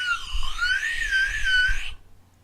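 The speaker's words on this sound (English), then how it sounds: "You got the slide whistle for this part." A slide whistle plays a wavering, swooping tone that slides up and down for about two seconds, fairly loud, over faint low thumps, then stops abruptly.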